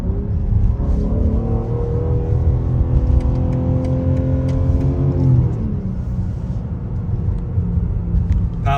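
A 2022 BMW M3 Competition xDrive accelerates lightly, its engine note rising in pitch as it climbs through the revs, then dropping back to a lower steady rumble; close and loud inside the cabin.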